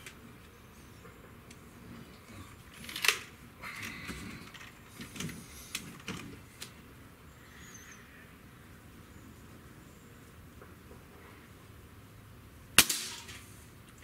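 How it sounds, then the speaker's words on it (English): A Diana AM03 Stealth N-TEC .22 breakbarrel air rifle fires a single sharp, close crack near the end, after a long quiet stretch broken only by a few faint clicks and handling noises. "And let's see what we got with shot number five."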